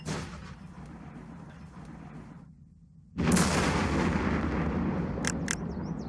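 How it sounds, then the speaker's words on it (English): A mortar fires in the Second Front war game: a steady low rumble dips briefly, then a loud blast erupts and a broad roaring wash lingers afterward. "Fire mortar."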